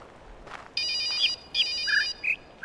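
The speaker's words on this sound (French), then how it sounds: "Il y a le téléphone qui sonne." A video game telephone rings in a jungle setting, repeated electronic ring bursts in a clear, close pattern, with a few melodic tones between them.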